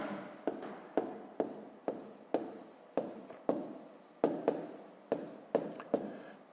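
A pen scratches across paper in short, regular strokes, roughly a dozen quick rasping bursts heard close up and fairly quiet, with no voice over them.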